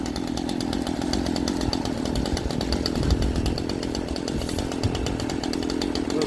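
Stihl chainsaw, a small MS-series saw, revving loud and steady up close with a dense, buzzing two-stroke roar that holds throughout with no clear drop when the chain brake is applied.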